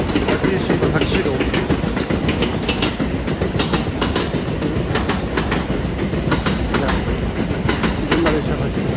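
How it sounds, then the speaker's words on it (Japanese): A conventional-line train rolls in close by near Kyoto Station, a loud continuous rumble punctuated by rhythmic wheel clacks on the rails. "あ、今在来線が来た。"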